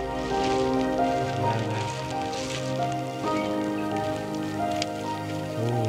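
Heavy rain falling in a moss-covered New Zealand forest near Franz Josef, a dense steady wash with music playing over it.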